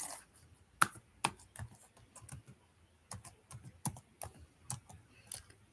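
Fingers type Python code on a computer keyboard in irregular bursts of crisp, close clicks and clacks with short pauses between them and no talking.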